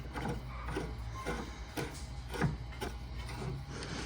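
Tie rod on an RD1 Honda CR-V being screwed into the steering rack by hand, a steady run of small metallic clicks and ratcheting turns close by, with no talking.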